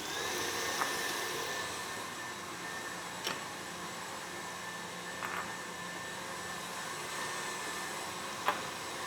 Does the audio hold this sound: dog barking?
no